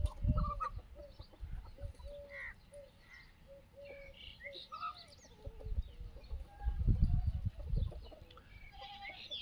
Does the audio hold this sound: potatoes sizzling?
no